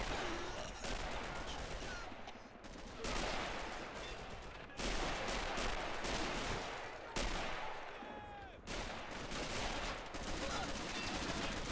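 Gunfire in the Men of War Assault Squad 2 computer game, street fighting in a destroyed Berlin city block, with repeated bursts of rifle and machine-gun fire, some close and loud, others distant, continuing throughout without talk.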